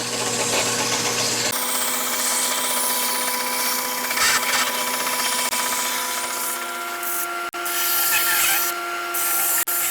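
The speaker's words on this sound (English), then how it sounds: "next we're going to go ahead and put it on the belt sander and kind of clean it up a little bit." A belt sander smoothing a wooden back massager, a steady loud whirring drone with a rough rubbing texture as the wood is pressed against the belt, continuous and close.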